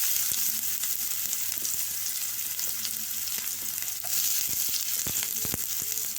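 Chopped onions fry in hot oil in a kadai with cumin and asafoetida, giving a steady, close hissing sizzle broken by a few light clinks from stirring.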